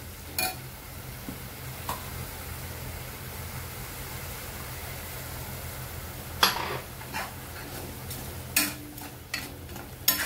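Spices for a paneer curry sizzle steadily in a pan after a splash of water is added, a continuous hiss with a few louder clinks and spoon scrapes; no one speaks.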